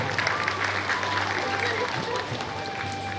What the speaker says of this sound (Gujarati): જોરદાર તાળીઓનો ગડગડાટ થઈ જાય મિત્રો